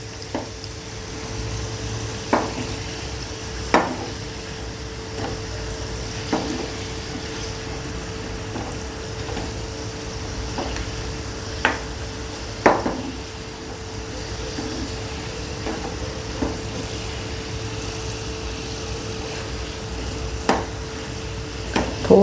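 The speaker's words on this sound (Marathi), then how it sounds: "मीडियम गॅसवर तळून घ्या म्हणजे एकदम करपणार नाहीत." Potato rolls deep-fry in oil over a medium gas flame, giving a steady low sizzle and bubbling with occasional sharp pops and crackles scattered throughout.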